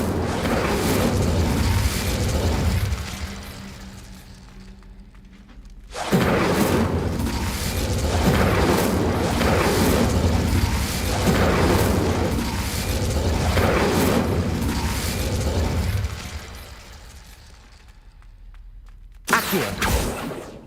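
Deep booming blasts from an Incendio fire spell in Hogwarts Legacy, loud rumbling bursts that pause briefly and then surge back, with a sharp final blast near the end and no voices.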